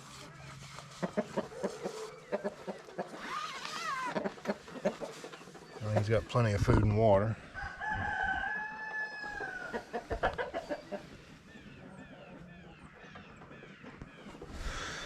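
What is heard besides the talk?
roosters clucking and crowing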